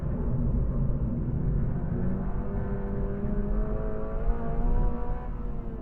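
A car engine pulling hard after shifting into second gear on a racing circuit, a steady loud rumbling drone with rising tones, close and continuous with no talk.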